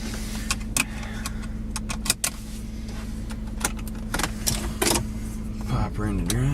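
A 2005 Ford Expedition pulls away at the start of a test drive, its engine idling steadily beneath several sharp clicks and jangling keys, with a person speaking close by.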